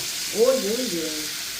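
Fish cooking in a pan with bori, lentil dumplings, gives a steady, close frying hiss and sizzle throughout. A brief voice sounds partway in.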